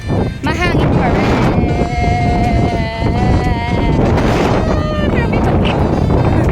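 Strong wind buffets the microphone in a steady roar, with whistling tones and the faint wash of water in the background.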